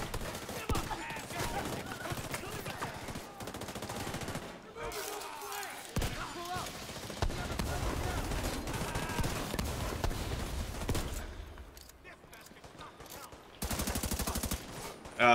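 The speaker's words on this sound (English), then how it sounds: "The shooting does feel really tight." Gunfire in a third-person shooter game, bursts of rapid shots and impacts over about fifteen seconds with a few quieter gaps, mixed with people talking.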